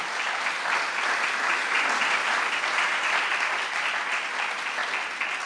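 An audience in a municipal hall gives sustained, even applause, a thick continuous patter of many hands clapping that fills the room without pause.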